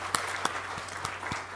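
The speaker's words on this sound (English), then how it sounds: "I request you all to give a big round of applause for our Minister." Applause from a seated audience at an animal agriculture industry function in India, a steady crowd patter with a few sharper claps standing out, moderately loud and without voices.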